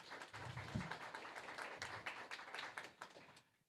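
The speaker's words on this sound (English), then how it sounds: "Can we give them another round of applause?" Audience at a JCI meet-the-candidates event clapping for the candidates, a short burst of scattered, faint applause that swells briefly and tapers off at the end.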